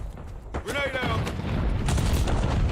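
A grenade detonates in a first-person shooter video game with a rumbling, broadband boom that follows a brief voice and lingers amid battle noise.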